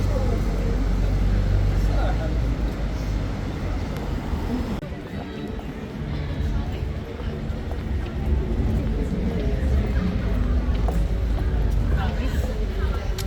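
A bus rumbles past through busy London street traffic, a loud, broad engine and road roar that swells and fades over several seconds with a person talking over it.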